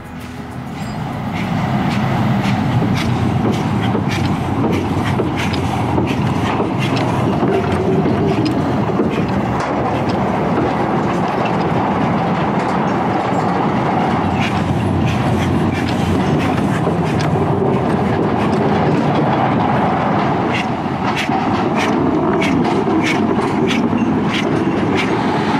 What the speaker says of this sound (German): wie die grüne Lok durchs Grüne fährt